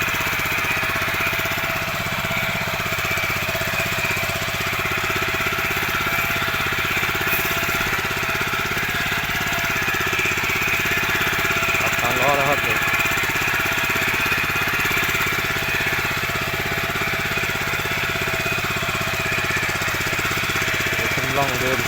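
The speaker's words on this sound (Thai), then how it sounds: "รถไถพวนดินเขาญี่ปุ่นครับผม" An old Japanese walking tractor's small engine runs steadily with a loud, rough, knocking chug that continues unbroken throughout, close by and dominating the scene.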